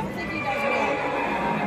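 A horse whinnies during a Disney on Ice show, its neigh sounding amid the broad, reverberant wash of arena sound and show audio.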